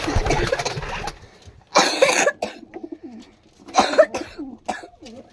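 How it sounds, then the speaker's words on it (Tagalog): Two loud, harsh human coughs come a couple of seconds apart, with softer breathy throat noises and pigeon coos in between. "Pasensya na kayo sa ubo ko"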